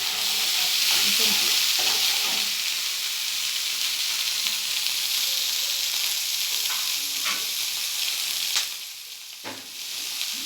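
Steady frying sizzle fills the clip, with occasional clinks and stirring scrapes, continuous and fairly loud before easing slightly near the end.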